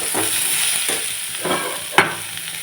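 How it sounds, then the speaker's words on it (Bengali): Chopped vegetables fry in a pan with a continuous close sizzle, broken by several soft stirring strokes and one sharp clink near the end. "এখানে আনাজগুলো ভেজে নিচ্ছি"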